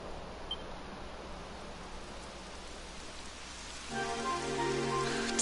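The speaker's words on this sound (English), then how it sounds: "It would have to go and start raining, wouldn't it?" Rain falling in the fantasy role-playing game Dragon Quest XI, a steady soft hiss that swells louder near the end with a faint tonal hum underneath, with no talking.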